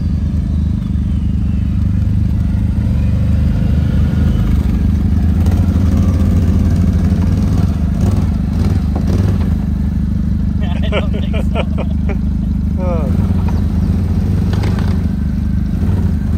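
A 2023 Can-Am Outlander 1000 ATV engine runs loud and close with a steady low rumble, pulling through shrubs on a muddy outing, with brief clattering and short bird-like chirps near the end.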